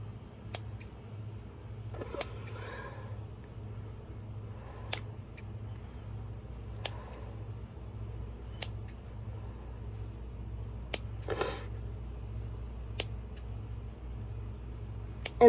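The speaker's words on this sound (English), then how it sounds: "But I will cut those up. Hang on. Got scissors." Scissors snipping small old plastic soft-bait pieces, a quiet sequence of sharp, separate clicks and snips spaced a second or two apart over a low steady hum, with a brief rustle of handling in between.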